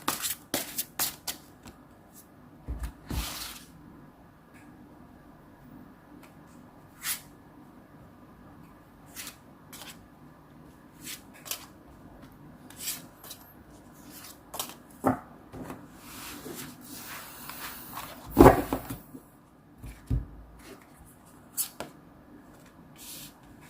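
Tarot cards shuffled by hand during a love reading, giving scattered soft riffles and taps at close range, with one louder burst of shuffling near the end.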